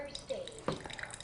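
Water from a KYK 707 hot and cold hydrogen water machine runs into a cup, giving a brief, soft dribble and a few light drips, fairly quiet and close.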